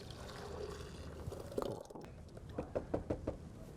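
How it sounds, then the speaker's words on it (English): A melted ice cream mixture is poured back into a blender with a soft, wet pour, followed by a quick run of knocking taps against the jar near the end. "we're going to pour that back into the blender"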